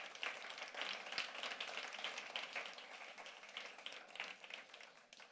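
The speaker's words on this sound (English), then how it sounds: "One more applause." Audience in a conference hall at a panel discussion gives a round of clapping, a quiet but steady patter of many hands continuing evenly across the whole stretch.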